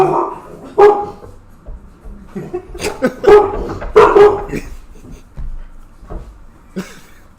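A dog barks in a room, a string of sharp separate barks and yips spread unevenly across several seconds, close and fairly loud.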